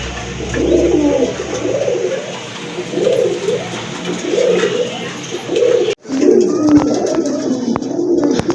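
Pigeons coo close by in repeated soft, throaty phrases at a steady rhythm, with a brief clatter partway through.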